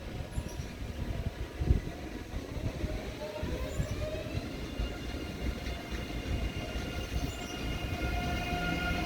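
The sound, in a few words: train at Munich main station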